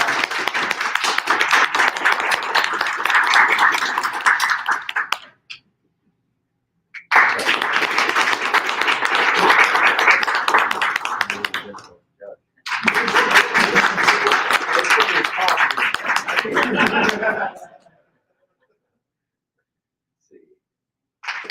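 Three bursts of dense applause from a meeting audience voting by clapping, each lasting several seconds with short silent gaps between, loud and close, with brief talk at the very end.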